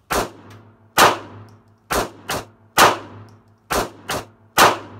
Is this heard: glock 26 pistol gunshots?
yes